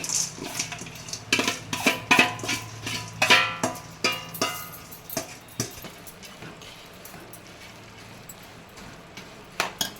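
Fried boondi is tipped into a pan with the stove switched off and stirred in for boondi laddu. A metal spoon clanks and scrapes against the pan in a quick, busy run of close clatters that thins to a few last knocks, with no talking.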